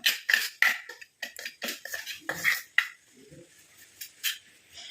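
Two homemade powders, one of them fried onion peel powder, stirred together with a spoon in a metal bowl, giving a run of light scraping clinks and taps. The sound is close and fairly brisk, with no talk.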